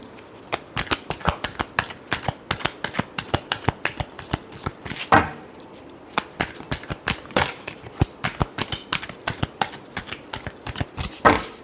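Tarot cards shuffled by hand in a long run of rapid, crisp riffling flutters, steady and close with a brief pause midway, no talking.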